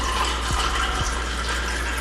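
Cinnamon churro coffee being poured into a cup, a steady trickling liquid stream close by for a couple of seconds, with no talk.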